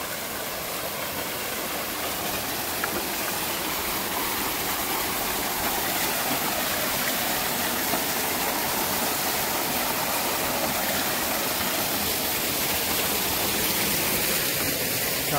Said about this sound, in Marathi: हा छोटा धबधबा आहे कुठला.